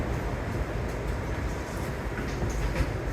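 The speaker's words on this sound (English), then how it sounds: "We have an open gangway train." An open gangway NYC G subway train running, with a steady broadband rumble and rolling noise close by throughout, unbroken and fairly even in level.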